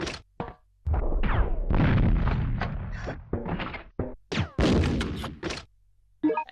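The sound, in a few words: explosive round blast from Resident Evil Survivor video game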